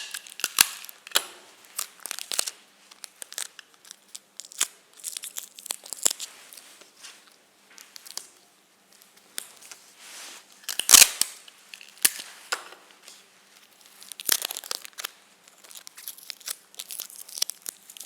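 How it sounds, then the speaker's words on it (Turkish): Adhesive tape is pulled and pressed along the edges of colored cardstock, giving irregular sharp rips, crinkles and snaps, one especially loud, scattered across a quiet room with no talking. "Aynı şekilde diğer fon kartonunun da kenarlarını bantlayacağız."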